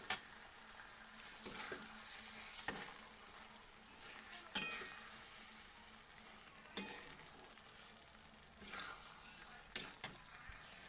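Paneer masala curry frying in a pan, a low steady sizzle running throughout with occasional soft scrapes and clinks of stirring, faint and close, with no talk.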